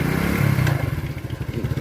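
A motorcycle engine idles and chugs as a learner rider shifts into gear, a close, rhythmic low putter with clattering mechanical knocks.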